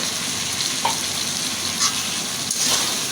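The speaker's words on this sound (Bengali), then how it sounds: "এখন আলু দিয়ে দেব" Potatoes hit hot spices in a pan, giving a steady frying sizzle with faint stirring scrapes, close and moderately loud, with no talking.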